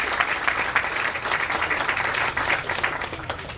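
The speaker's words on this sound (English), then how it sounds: "give a round of applause to members of our legislature" Crowd at a cargo arrival ceremony in St. Louis applauds members of the state legislature, a dense, even patter of many hands lasting several seconds without any speech on top.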